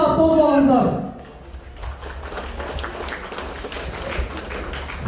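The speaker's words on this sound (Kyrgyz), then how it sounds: "Кол чаап тосуп алыңыздар." An audience claps to welcome a performer at a Kyrgyz farewell celebration for a bride. An announcer speaks loudly at the start, and then a steady patter of clapping carries on at moderate volume.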